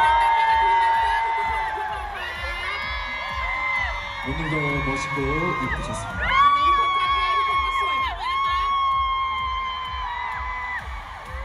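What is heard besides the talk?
concert crowd applauding and cheering for the dancers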